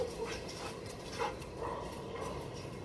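An excited pet dog gives short, breathy whimpers and yips at low to moderate loudness, its voice rising in a few bursts over steady outdoor background noise.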